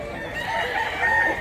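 A white rooster gives one short, close crow, loud and clear against a quiet background.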